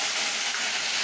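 Ground mustard paste hitting a hot pan, with a steady, bright sizzling hiss that carries loud and close through the whole short moment.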